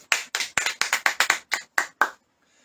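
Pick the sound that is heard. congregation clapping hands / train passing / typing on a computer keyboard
congregation clapping hands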